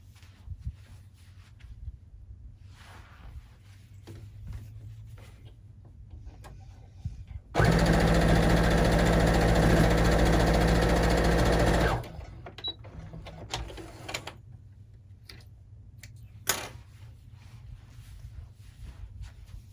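A domestic sewing machine stitches hexagon log cabin quilt blocks in one steady, loud whirring burst of about four seconds, with quiet handling noises before and after.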